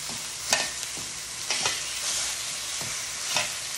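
A frozen vegan burger patty browning and thawing in a pan gives off a continuous close sizzle, punctuated by several sharp spatula taps and scrapes roughly every second, with no voices.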